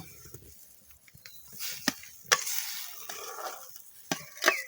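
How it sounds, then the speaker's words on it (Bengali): Potatoes and eggs are dropped into a boiling curry broth in a pot, bringing scattered splashes and spoon scrapes over a low, bubbling simmer, close and fairly quiet. "এখন আমি আলু আর ডিম ছেড়ে দিব ঝোলের মধ্যে"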